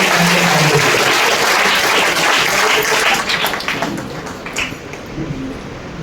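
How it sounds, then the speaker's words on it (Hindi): A crowd at a network marketing motivational seminar bursts into loud, sustained applause, dense clapping filling the whole stretch and easing slightly toward the end. "तो जोरदार तालियों के बीच में"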